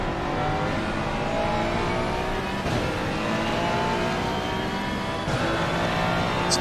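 Race cars in Assetto Corsa Competizione roar in a continuous, loud engine drone. The pitch sweeps through gear changes and revs as the cars push around a track, with no voices over it.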